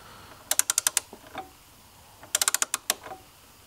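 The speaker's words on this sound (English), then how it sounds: "So we'll go ahead and torque those down" Torque wrench tightening bolts to 8 foot-pounds on a billet accessory piece for a Suzuki Grand Vitara (Escudo): two close bursts of rapid ratcheting clicks, about six quick clicks each, separated by a short pause.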